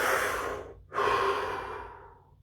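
A single deep breath, a long noisy inhale, a brief pause, then a long, steady exhale, close up and alone with no talk.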